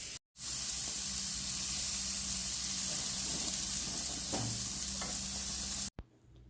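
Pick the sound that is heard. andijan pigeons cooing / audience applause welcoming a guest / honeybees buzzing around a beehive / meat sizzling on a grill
meat sizzling on a grill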